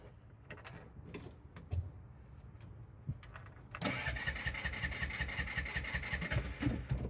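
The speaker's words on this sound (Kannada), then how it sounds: "ನೋಡಿ, ಇವಾಗ ಸ್ಟಾರ್ಟ್ ಆಯ್ತು ಗಾಡಿ." A vehicle with starting trouble cranks briefly after a few light clicks, then its engine catches and settles into a loud, steady running idle close by.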